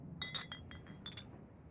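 A shot glass clinks in the horror visual novel Scarlet Hollow, a quick series of bright glassy chinks, clear and close, over a quiet low background.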